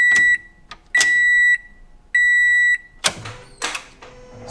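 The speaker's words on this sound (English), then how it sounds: "Got some beeps." A series of electronic beeps from a truck instrument cluster, steady high tones sounding in on-off bursts, followed by mechanical clicking and clattering.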